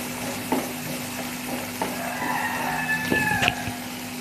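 Chopped small tomato tipped into fried onion in a pan and stirred, a continuous sizzle broken by several scraping stir strokes and light clinks, with no voices.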